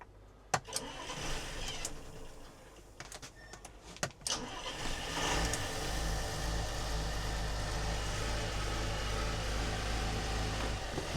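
Boat engine, previously sunk and abandoned for 10 years, turns over after a few clicks and knocks, then catches around the five-second mark and settles into a steady, rough running drone that continues to the end.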